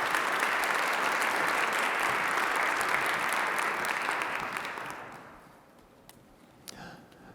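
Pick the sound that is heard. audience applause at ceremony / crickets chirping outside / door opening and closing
audience applause at ceremony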